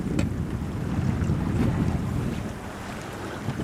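A sailboat cruises in light wind, with a steady rush of water along the hull and wind buffeting the microphone, continuous and close with no talking.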